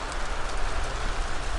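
Heavy rain from a southwest storm falls straight down, a steady, dense hiss of drops hitting nearby surfaces with no let-up.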